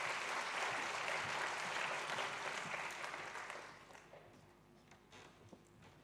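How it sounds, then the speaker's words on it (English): Warm applause from a forum audience at a climate change adaptation event, welcoming a speaker to the podium; dense clapping at first, then thinning and dying away over the last couple of seconds. "you can also give her warm applause to make her feel comfortable"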